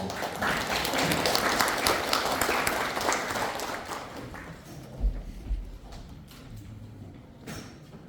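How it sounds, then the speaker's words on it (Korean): An audience in a National Assembly meeting room applauds to welcome the chairman to the stage at an anniversary event, dense clapping that gradually thins and fades out over several seconds. "큰 박수로 환영해 주십시오."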